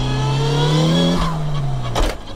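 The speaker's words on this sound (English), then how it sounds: "that'll be straight cut gears is what you're hearing there, the whining" A Mitsubishi Evo 7 engine with an HKS stroker kit and sequential straight-cut gears revs loudly with a high gear whine, then the pitch drops and a sharp burst of noise cuts in near the end.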